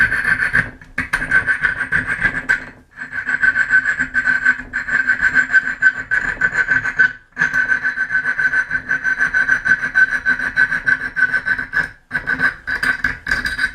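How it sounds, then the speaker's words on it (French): Small round glass-cutting file working aluminium for a homemade 80 W diving lamp: steady, close rasping strokes that run continuously with a few brief pauses, loud and alone with no talk. "lime à découper le verre. C'est une petite lime ronde. Voilà. Et je finis les découpes."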